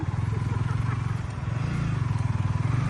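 A motorcycle ridden slowly by a new learner, its engine a steady, throbbing low putter close by, with a faint clatter over it.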